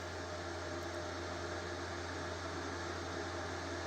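A steady, low mechanical hum with a constant electrical buzz from a flux-core MIG welding machine, unchanging and fairly faint, like a machine idling nearby.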